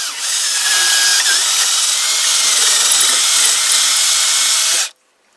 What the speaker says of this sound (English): And then we'll do some drilling.